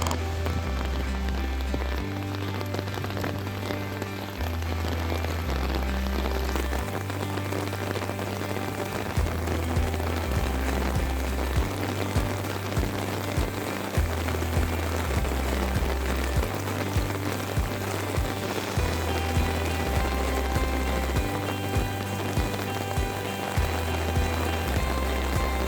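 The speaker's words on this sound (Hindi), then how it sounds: "भाई बहुत ही ज़्यादा बारिश हो रही है" Heavy rain pours down steadily in Shimla, a dense, loud hiss of drops pattering on surfaces with no voices, continuing unbroken for the whole stretch.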